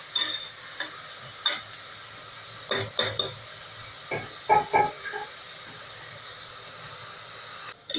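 Onions being sautéed in a pot for a veg biryani, with a steady low sizzle under sharp scrapes and clinks of a metal spoon stirring, in a few clustered bursts.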